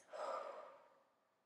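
A single soft, breathy exhale released slowly during a meditation practice, close and faint, fading out gradually over about a second.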